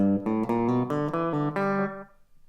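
A short country guitar lick in G using the G country scale, a quick run of about seven plucked notes climbing then ringing out, close and clear with no talking.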